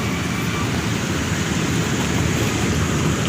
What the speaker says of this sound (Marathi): अवकाळी पावसाच्या जोरदार सरी सध्या कोसळताना आपण पाहतात